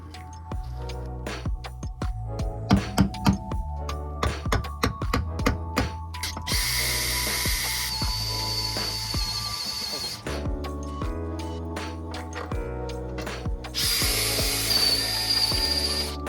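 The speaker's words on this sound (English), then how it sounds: "So I'm gonna drill 2 holes and make a couple of cuts in the carpet." A power drill whines in two sustained high-pitched bursts, drilling holes in a Mazda Miata's floor, with clanks and knocking tool sounds between them, close by.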